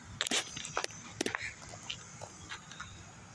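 A pet dog making noise at its owner indoors, with a few short yips and scuffling bursts close by over a quiet room background.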